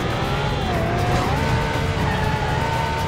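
Car engine in the PS2 stunt game Stuntman, loud and steady as it drives and overtakes, its pitch sliding upward with faint tire noise beneath, no talking.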